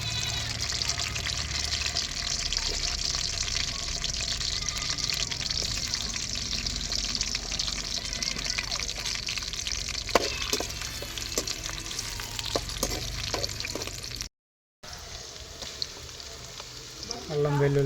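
Onions fry with ginger garlic paste for a country chicken curry: a constant close sizzle with occasional stirring clatter, a brief dropout near the end, and faint voices in the background.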